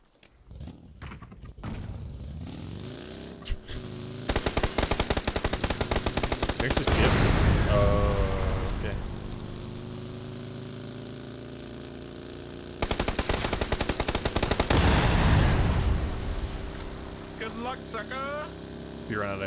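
Two long bursts of sustained machine gun fire in the video game PUBG, rapid and rattling against a low vehicle hum, with people talking between and under the bursts.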